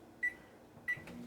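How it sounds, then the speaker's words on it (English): A microwave oven heating butter for a short ten-second zap, two brief sharp electronic beeps spaced well apart over a faint quiet hum, fairly close, with no talking. "I'm going to give it a little 10-second zap in the microwave just to get it to a little more liquid."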